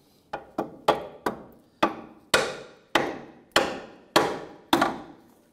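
Hammer whacks on the control arm of a 2007-2013 Mitsubishi Outlander to seat the ball joint, about ten sharp metallic blows at a steady, slightly quickening pace, close and loud with short ringing decays and no talking.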